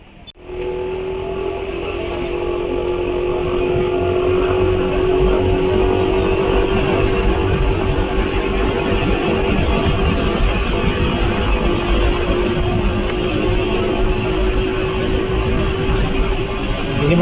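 A motorcycle engine runs at under half throttle while cruising at about 98 km/h, producing a loud, steady drone with a constant pitch and no pauses.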